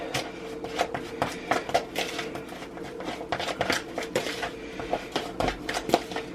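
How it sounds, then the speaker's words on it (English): A spoon stirs a raw meat patty mixture with Worcestershire sauce in a bowl, making a close run of irregular scraping, clinking and wet squelching strokes with no talk. "I just took a spoon and"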